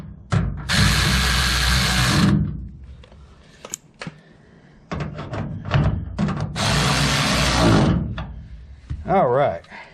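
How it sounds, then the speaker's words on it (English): A 1/4 inch drive electric ratchet, used while replacing shocks on a 2006 Dodge Ram 1500, whirs loudly in two sustained bursts of about two seconds each, with clicks and handling noise between them. "This is a 1/4 inch drive electric ratchet."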